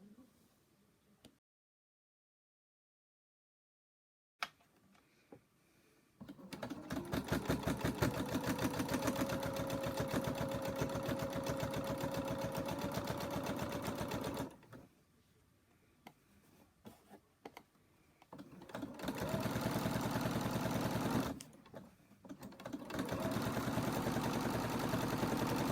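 A sewing machine runs in long steady bursts, stitching a seam on a zipper pouch. Its fast, even mechanical whirr starts and stops with quiet pauses between runs.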